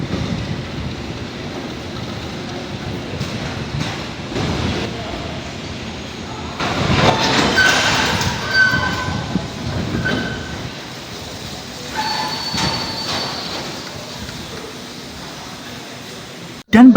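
A train locomotive moves slowly in reverse at a station, giving off a steady rumble with clanks and squeals from the wagons, and the noise swells in the middle.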